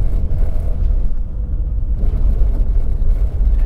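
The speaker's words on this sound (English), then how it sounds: "You can hear my keys shaking in the cup holder, my parcel shelves vibrating." A Mercedes-AMG GT 4.0 GTS drives over a cobbled road, with heavy, loud low rumble from the tyres and body and faint rattles of keys in a cup holder and vibrating parcel shelves scattered through it.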